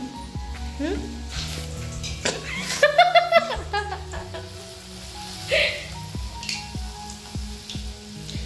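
Luchi, puffed flatbread, deep frying in hot oil during a Saraswati Puja meal, with a continuous close sizzle rising into a louder bubbling burst as dough goes in. Voices and light laughter come in over it.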